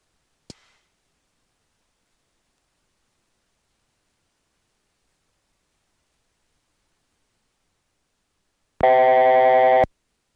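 After a long silence, a private jet cockpit altitude alert sounds a single electronic tone for about a second, clear and steady, following a faint click near the start.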